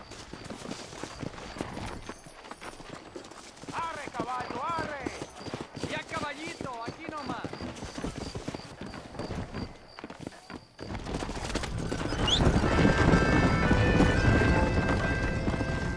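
Horse hooves clip-clop at a steady riding pace in the Red Dead Redemption video game, mixed with voices and a brief whinny, and a louder rumbling gallop builds toward the end.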